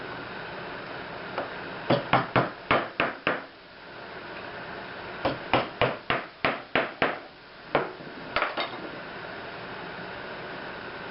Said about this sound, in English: when I get right down into the corner, I'll switch to an 1/8" chisel